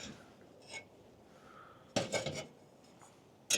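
Alocs cookware pots and a frying pan being nested together, a few light metallic clanks and scrapes, the loudest knock near the end, close and alone.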